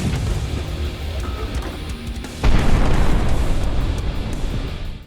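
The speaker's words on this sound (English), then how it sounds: "Mini Nuke Launcher." A mini nuke launcher blast in the video game Nightmare Reaper, a sudden loud low boom partway through that follows game sounds and trails off into a rumbling decay.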